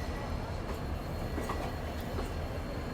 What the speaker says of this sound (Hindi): मेरे ख्याल से ये हाई कोर्ट एक्सप्रेस होना चाहिए, जहाँ तक मुझे लगता है। पहुँच रही है जोधपुर